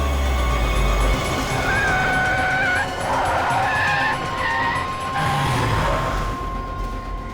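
A car skids to a sudden stop, its tires giving a loud, wavering squeal for a few seconds over engine noise, then fading as the car halts.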